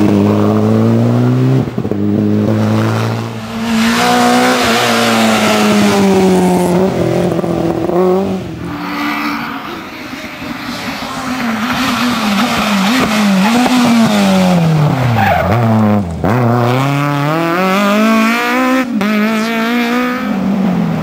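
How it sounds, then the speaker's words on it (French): Citroën C2 R2 rally car at a rally stage braking too hard, with tires squealing and skidding in long wavering screeches over a loud engine that revs and drops, close and continuous. "Thierry Bureau qui en a fait un peu trop avec le frein."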